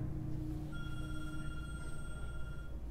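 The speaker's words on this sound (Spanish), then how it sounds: "Voy a pedirle que apague ese teléfono." Mobile phone ringing during a church sermon, a steady electronic ringtone with sustained tones sounding over room hum, fairly faint and continuous for a few seconds.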